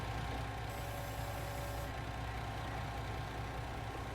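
A tractor engine in Farming Simulator 19 idles with a steady, low mechanical drone, constant and unbroken throughout, a faint high whine briefly riding on top, no talking.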